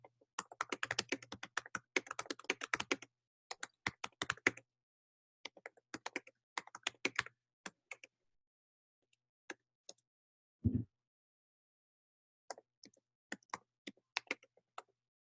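Close, quiet typing on a computer keyboard, rapid clusters of key clicks broken by pauses, with one low thump partway through and shorter bursts of keystrokes afterward.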